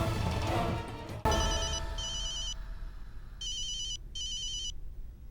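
A telephone rings with an incoming call in a domestic drama scene, bright electronic trills coming in short repeated bursts with pauses between them, close and clear, following a sharp knock-like hit and some fading background noise.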